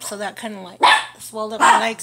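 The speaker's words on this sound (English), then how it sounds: "I'm sorry about the dogs." Dogs bark in two loud, close bursts indoors, mixed in with someone talking steadily through them.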